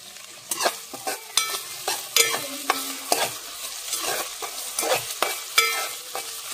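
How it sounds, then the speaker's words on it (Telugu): Chopped onion and tomato fry in hot oil for prawn biryani, with a soft continuous sizzle broken by repeated rhythmic scrapes of a spoon stirring the pan, close and fairly quiet. "ఇలా ఆయిల్లో అయితే మంచిగా వేగనివ్వాలి"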